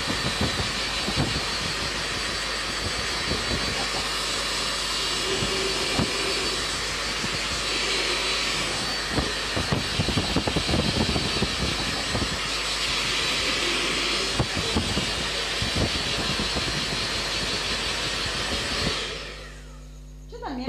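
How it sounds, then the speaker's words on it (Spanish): A hair dryer blows on a painted recycled bottle: a loud, steady rushing whoosh that holds for nearly twenty seconds, then cuts off near the end. "Le voy a dar un poquito de secador de pelo."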